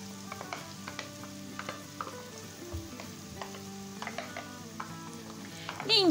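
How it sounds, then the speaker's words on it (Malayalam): Ginger-garlic paste sautéing with softened onions in a pan, a steady low sizzle and frying crackle broken by faint stirring scrapes and clinks, with a louder utensil scrape near the end. "ഇഞ്ചി വെളുത്തുള്ളിൻ്റെ പച്ചച്ചു വന്ന് മാറി വരുന്നത് വരെ നമുക്കിതിനെ ഒന്ന് വഴറ്റാം"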